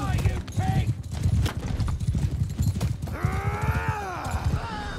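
Horse hooves clip-clopping in the Mount & Blade II Bannerlord video game during a mounted battle charge, a steady rapid rhythm of hoofbeats with a whinny near the end, under a talking player's voice and battle noise.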